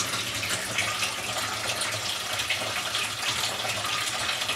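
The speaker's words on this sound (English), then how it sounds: "I let it drain for a while." Steady broadband rush of water running down a clogged kitchen sink drain pipe, continuous and fairly close with no talking.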